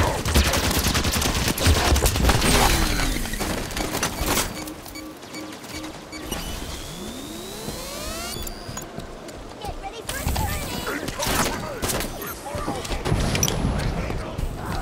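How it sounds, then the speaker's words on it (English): Rapid gunfire and bursts in the Halo 5 campaign during a fight with the Covenant, with a grenade blast, whooshing weapon sweeps and loud crackling shots. Voices speak now and then under the combat. "Get down, grenade!"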